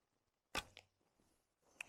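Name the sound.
arrow shot from Paragon Solak Turkish bow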